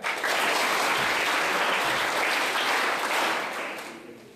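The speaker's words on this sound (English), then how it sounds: "Clap, you can clap." Applause from a college audience, a dense, steady roar of many hands clapping that holds loud for about three seconds before tapering off, with no talk over it.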